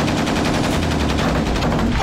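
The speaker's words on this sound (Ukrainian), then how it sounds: "Постріл!" Rapid gunfire crackles in bursts during close combat at Klishchiivka, dense overlapping shots and machine-gun rattle that stay loud and near for the whole stretch.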